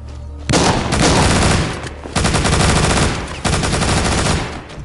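A Gatling gun firing in the video game The Walking Zombie 2, loud continuous rattling bursts of rapid shots, three long volleys split by short gaps, close and dominant.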